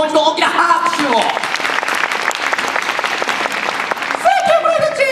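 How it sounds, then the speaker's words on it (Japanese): Audience applause at a Universal Studios Japan monsters rock and roll stage show, loud and continuous, with a performer's voice heard over it at the beginning and end. "みんなブライドちゃんにもう一度大きな拍手を。"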